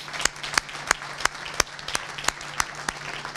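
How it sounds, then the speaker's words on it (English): An audience at a university athletics graduation brunch gives a round of applause, a steady patter of many hands with a few sharper individual claps standing out. "Can you please help me give them a round of applause?"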